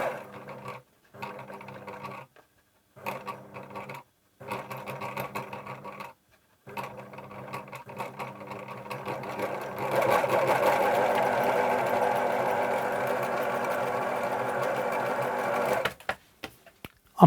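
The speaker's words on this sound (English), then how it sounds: "It's doing sewing machine things." A repaired domestic sewing machine runs under foot-pedal control, first in short separated bursts of stitching, then in one long steady whirring run; close and moderately loud.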